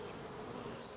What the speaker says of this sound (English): That's a man bee, and all the others are lady bees.